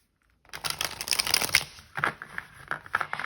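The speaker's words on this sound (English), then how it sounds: "let's just do a little bit of shuffling for you guys" An Ethereal Visions tarot deck is shuffled by hand, with rapid riffling and flicking card sounds in quick bursts and short pauses, close and clear with no talking.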